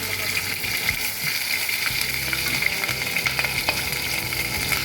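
Onions and green chillies frying for sambar rice give a loud, dense sizzle with continuous crackle and metallic stirring clinks and scrapes throughout, close by.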